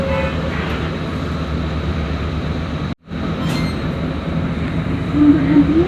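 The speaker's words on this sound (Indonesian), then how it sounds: "ini ada KRL lintas nih" A KRL commuter train rumbles past a Jakarta bus stop near Permata Hijau, a steady close rolling rush of wheels on rails that briefly cuts out, then swells again with faint squeals, under some background chatter.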